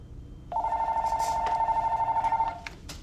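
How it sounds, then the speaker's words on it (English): A phone rings with a sustained two-tone electronic chime for about two seconds, fairly loud and close, followed by a few clicks and rustles. "My phone's ringing."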